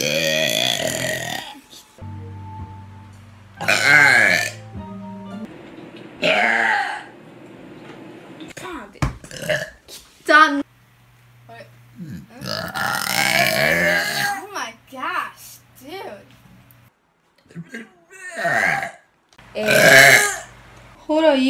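A series of loud, close burps, several in a row with pauses between them, mixed with excited talking and laughter from people reacting.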